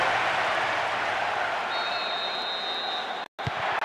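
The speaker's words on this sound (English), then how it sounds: "That strike has ignited the crowd." Virtual stadium crowd in the PS2 football game PES 2009 roars after a goal, a dense continuous wash of cheering and applause filling the clip, cut by a brief dropout near the end.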